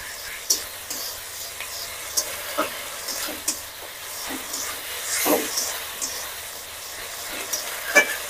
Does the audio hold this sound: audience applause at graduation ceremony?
no